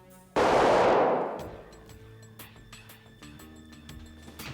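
A gun fires one loud, sharp shot up close. Its blast rings out and decays over about a second, followed by faint clatter and thumps.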